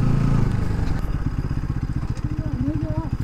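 A motorcycle on a rough offroad track in the hills toward Gorkha's Manakamana, its engine putting along with a steady pulsing throb and clatter, heard close while people talk over it.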